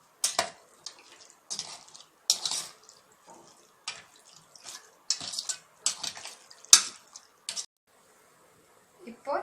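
Chicken marinade for Hyderabadi biryani is mixed in a bowl. Irregular wet squelches and sharp spoon clinks against the bowl repeat through the mixing, close and fairly quiet, with pauses between strokes.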